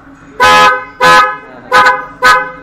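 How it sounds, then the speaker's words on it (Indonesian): A car horn, just repaired after sounding continuously, honks four times in short, loud blasts with brief gaps between them, the first two longer and the last two quicker. "Ini springnya dipasang lagi dan coba klakson."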